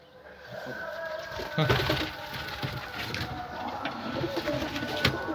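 Newly housed pigeons in a coop cooing softly, with rustling and someone talking nearby over a steady background hum.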